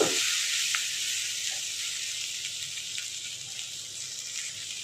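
A potato and long bean fry with chopped onion sizzles steadily in a pan over low flame, a constant hissing crackle with faint stirring touches, no voices.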